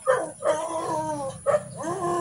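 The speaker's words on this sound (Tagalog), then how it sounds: "May ligaw na aso pa guys." A stray dog barks and whimpers in a run of three or four close, loud yelping calls with whiny, howling tails, heard alone outdoors near an abandoned spot.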